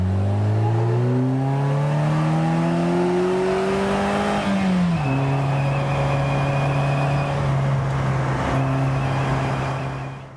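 A 2018 Polaris Slingshot three-wheeler drives on a paved road, its engine loud and close and rising in pitch as it accelerates, then dropping at a gear change and settling into a steady drone.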